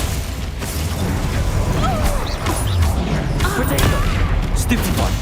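Confringo and Glacius spells cast during combat in Hogwarts Legacy, a busy run of bursts, pops and crackling impacts layered over a continuous noisy battle bed, moderately loud throughout.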